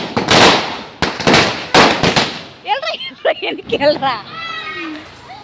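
Several loud crackling firecracker bursts go off in quick succession during Diwali celebrations, then excited voices talk and shout as the popping dies away.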